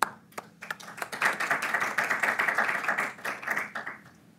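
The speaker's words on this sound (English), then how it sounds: "So a little applause." Seminar audience clapping to welcome a speaker, with a few scattered claps at first that swell into moderate applause, then thin out and fade near the end.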